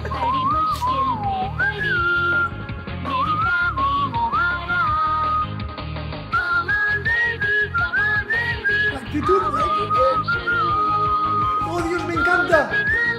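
A person whistles a song, a bright, clear melody of short and held notes in a bouncy rhythm, close and loud over a steady musical backing.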